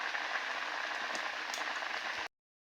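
Stuffed puli pitha sizzle in hot oil, a constant dense crackle and hiss with a few sharper pops, ending abruptly in silence.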